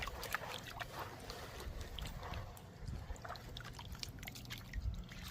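A gold pan swirled underwater to break up material makes soft, faint sloshing and gurgling with light gritty scraping, irregular and close, with no voices.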